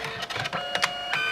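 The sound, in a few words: photo printer printing a 35mm film photo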